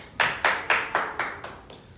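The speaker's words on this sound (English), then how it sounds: "can we give her a huge round of applause for our host for coming out and hosting this event tonight?" A small group of people clapping in unison, about seven sharp, evenly spaced claps in a couple of seconds, fading slightly toward the end; no talking.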